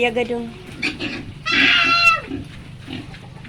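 Pigs fighting in a backyard hog farm: squeals and grunts, with one loud, harsh, drawn-out shriek in the middle, close by, while a person talks in between.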